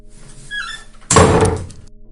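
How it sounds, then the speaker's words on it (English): A door slams shut with a single heavy, close thud that rings briefly, after a faint creak and a quiet moment. "the door slammed shut behind me."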